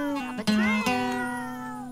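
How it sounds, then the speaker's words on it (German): A cat in The Sims 4 Island Living gives a clear, drawn-out meow with a rising then falling pitch. It is close and alone, and trails off gently. "Oh, böse Katze, du gehörst nicht aufs Bett?"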